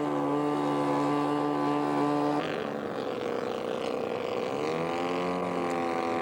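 A scale model T-34 aircraft makes a flyby at an air show, its small engine buzzing steadily, then the pitch drops sharply midway as it passes and a rising tone returns as it climbs away.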